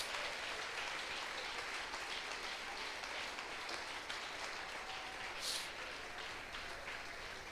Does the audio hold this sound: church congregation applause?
yes